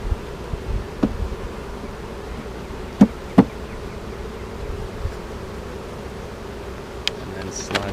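Honeybees drone steadily around the open hive of a strong colony that has swarmed, a close, continuous buzz with a few sharp knocks of frames and equipment rising briefly above it.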